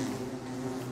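A swarm of bees buzzes in the video game Don't Starve Together, a steady, close, droning hum with no break.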